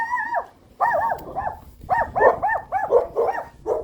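A dog barks at the neighbor's dogs in repeated sharp bursts, a single bark followed by quick clusters of barks with yips, loud and close with no talking.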